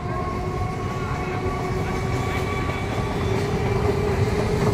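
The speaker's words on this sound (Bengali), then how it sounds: "দেখো এই ট্রেন যাচ্ছে দেখতে পাচ্ছ" Train rolling past near a rooftop in hot weather, a steady loud rumble with clickety-clack wheel rhythm and a faint tonal whine, sustained throughout.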